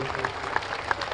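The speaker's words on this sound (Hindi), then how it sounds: "पूज्य श्री चिन्मयानंद बापू जी, जोरदार ताली बजा करके" Applause from a religious gathering's audience honoring a Ram Katha speaker, steady dense clapping heard briefly at moderate distance with a few sharper claps standing out.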